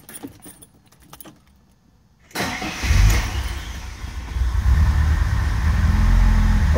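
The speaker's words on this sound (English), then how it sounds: "Today's task at hand is starting up from cold this 1966 Mercedes 230 SL." Keys jangle quietly, then a 1966 Mercedes 230 SL inline-six cranks from cold and catches, settling into a loud, rough, close idle that builds and steadies.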